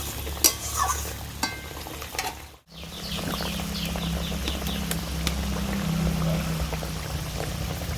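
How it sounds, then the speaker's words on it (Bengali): Bengali-style puti fish curry gravy bubbles and sizzles in a pan, a steady frying hiss broken by a brief stir or clatter near the start, then a continuous close simmer with occasional small pops. "মাছটার সাথে ঝোলটাকে আমি খুব সুন্দর করে ফুটিয়ে নেব।"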